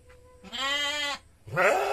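Two loud, close bleats from a Garut sheep in a cold highland village: one sustained, wavering call, then a short pause and a second rising bleat.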